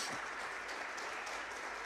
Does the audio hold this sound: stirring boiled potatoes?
no